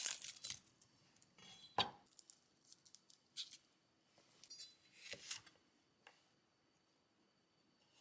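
A knife on a cutting board cuts peeled garlic cloves in half lengthwise, giving quiet, sparse taps and slicing clicks at irregular intervals against a near-silent background.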